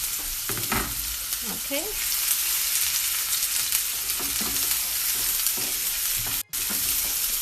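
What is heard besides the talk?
onions and garlic sautéing in a pan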